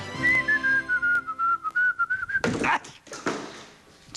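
A clear, continuous whistled tone backstage in a theater slowly wavers and drifts downward, followed by a few sharp clattering bangs.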